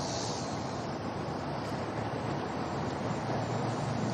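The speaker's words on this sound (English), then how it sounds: "Little gust there." A gust of wind sweeping across a golf course, a steady broad rushing roar buffeting the microphone at constant loudness for several seconds, heard alone without talk.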